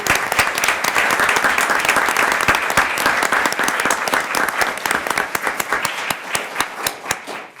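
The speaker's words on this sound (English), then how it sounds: "one more round of applause." An audience at a Roanoke City Council meeting breaks into sustained applause, many hands clapping densely and steadily at close range, then thinning out into fewer, more separate claps during the last couple of seconds.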